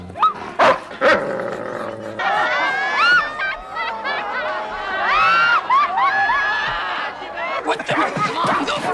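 Dog snarling and scuffling in a fight, with bursts of growls and yelps layered over excited crowd shouting and chatter, loud and close throughout.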